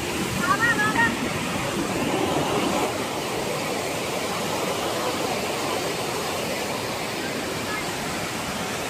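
A waterfall in a hilly area near Thrissur, Kerala, pours as a loud, steady roaring wash of water close by, constant throughout with no break.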